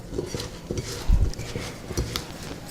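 Potato pieces being tossed by hand or spoon with garam masala, ginger-garlic paste and salt in a bowl, giving soft close clatter and knocks with one heavier thump midway.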